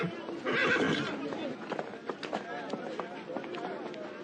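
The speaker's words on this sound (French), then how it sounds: "Lorsqu'il parade à cheval dans les rues de Casablanca, le général Hubert Lyautey" Horse hooves clip-clop steadily on a street during a military parade in Casablanca, with a horse neighing loudly early on and a murmur of voices and crowd noise running underneath.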